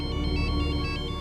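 Phone ringtone of an incoming call in a Hindi TV serial, a loud electronic tone pulsing in a quick repeating pattern, alone with no talk.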